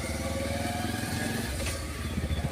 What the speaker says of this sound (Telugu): బైక్ కూడా ఇక్కడ జారిపోతుంది